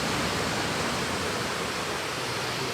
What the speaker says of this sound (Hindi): अभी थोड़ी देर में एक लहर आएगी और आप उसकी आवाज़